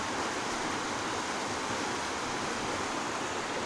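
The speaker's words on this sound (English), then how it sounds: "You can actually hear rumbling, but also knocking occasionally." Waterfall at Panther Creek Falls on a day hike, a steady broadband roar of rushing, rumbling water that holds constant throughout, close and loud with no talk.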